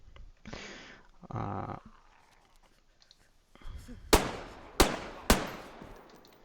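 Three sharp gunshots from a shooter game using the Immersive Armor mod crack in quick succession near the end, preceded by softer rustling and movement sounds.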